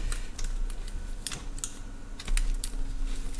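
Keys tapped on a freshly repaired laptop keyboard, a close, irregular run of light clicks with brief pauses, alone with no voices.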